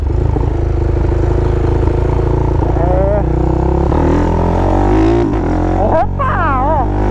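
A Start motorcycle bored to 470cc and fitted with a quickshifter rides while its engine is still cold, giving a loud, steady engine drone. The pitch shifts and drops briefly as gears change, and a voice is heard over it.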